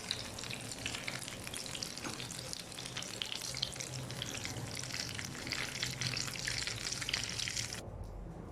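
Potato and chicken kababs fry in a pan with a steady, close crackling sizzle that stays even throughout, then cuts off abruptly near the end.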